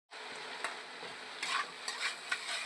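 Chopped vegetables for chowmein sizzling in a hot pan, a steady hiss broken by several scraping stirring strokes in quick succession, close and clear.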